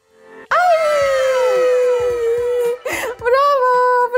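A dog gives a long drawn-out whimpering howl that slides in pitch, then breaks into short, higher whines, loud and close in a quiet indoor room.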